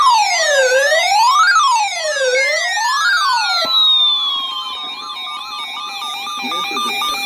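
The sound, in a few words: weather radio warning alarm tone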